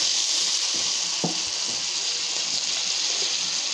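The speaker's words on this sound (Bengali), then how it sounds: "ওখানে আদা জিরাটা দিয়ে দিব, আর দিব একটু কষানোর জন্য জল" Ground ginger-cumin paste with a splash of water fries in a pan, giving a steady close hiss of sizzling with a few soft stirring knocks and no voices.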